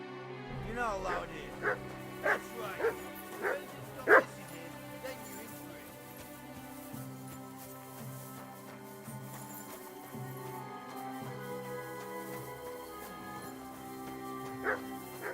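Dog barking in the medieval game Kingdom Come Deliverance, several short barks in a cluster near the start and one later, over a steady background of game music or ambience.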